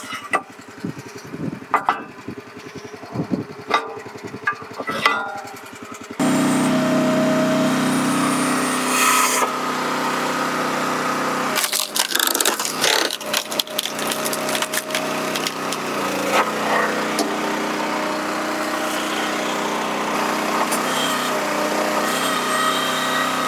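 A six-way wood splitter driving through a log, its engine running loud and steady with repeated cracking and splintering of wood over the continuous motor noise, after quieter tool sounds.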